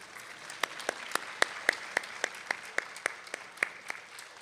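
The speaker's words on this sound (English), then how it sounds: "Now, students, please give those people a round of applause for me." Applause from students at a university white coat ceremony, sparse and fairly faint, with distinct separate claps standing out in a steady rhythm over a soft background of clapping, no talk over it.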